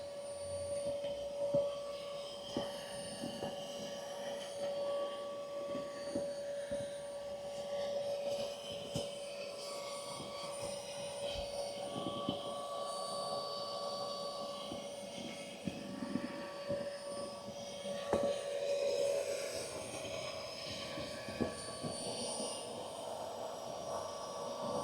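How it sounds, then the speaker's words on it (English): A Zuxiga 50PSI two-stage electric high-pressure paddle board pump draws air out of a raft, making a steady, fairly quiet motor whine with a constant pitched tone and occasional small knocks, with no speech. "As the air is drawn out via the motor, you can roll up your raft, canoe, sup,"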